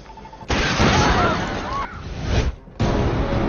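A large explosion in a movie scene erupts as loud, broad roaring blasts, with a short gap before a second burst of rumbling noise.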